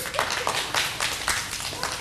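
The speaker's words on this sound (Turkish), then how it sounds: "Türkiye'nin çocuklarını hep birlikte alkışlıyoruz" An audience applauds the children at a Turkish children's human-rights week show, irregular clustered bursts of clapping over a noisy hall with voices mixed in.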